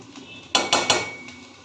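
A spoon stirs fried rice with ghee in a pan: three quick, close metallic scrapes and clinks over a faint background sizzle.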